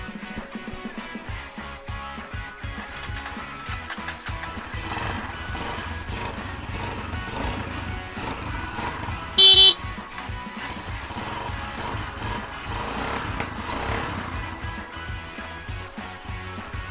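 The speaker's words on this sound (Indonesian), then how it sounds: "Seperti itulah suara dari W175." A Kawasaki W175 motorcycle rebuilt in classic style runs with a continuous, even engine drone that holds steady for the whole stretch, joined by one brief sharp clatter partway through.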